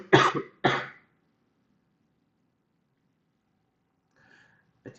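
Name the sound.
cough and throat clearing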